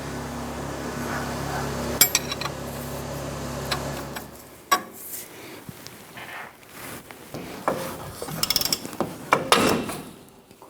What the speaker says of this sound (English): Now the upper ball joint has to get pressed up and out of the axle tube here. So we have our ball joint press on here.